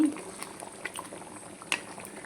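Mango and jaggery chutney bubbling steadily in a pan, a soft continuous simmer with occasional louder pops, heard close up.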